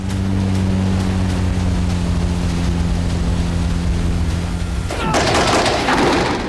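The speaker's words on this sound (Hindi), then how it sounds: "बागुरा ड्रोन ने रफ्तार पकड़ ली।" A Magura sea drone boat runs at sea with a loud, steady engine drone, then a burst of rushing, splashing water as it surges forward near the end.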